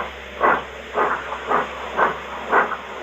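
Five rhythmic bursts of steam hissing from Henry, a steam engine in Thomas & Friends, chuffing evenly as the train starts off, close and clear over a faint steady hum.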